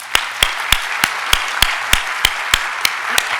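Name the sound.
audience applause thanking performers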